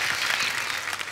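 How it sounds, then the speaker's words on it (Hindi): A studio audience at a comedy talk show breaks into dense, steady applause, a brief wash of many hands clapping together. "एक टैलेंटेड फैमिली के लिए जोरदार ताली हो जाए।"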